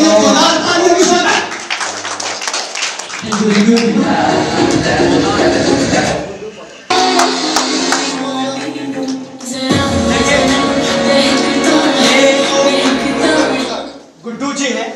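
Loud, dense audience applause at a media awards ceremony, sustained in long bursts with brief dips around the middle and near the end, mixed with crowd voices and talk.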